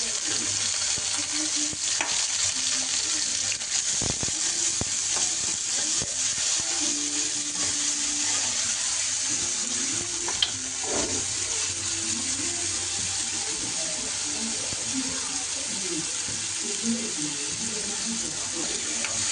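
Garlic, onion and curry leaves frying in a pan make a continuous bright sizzle, with occasional stirring knocks and scrapes, heard close and steady for the whole stretch.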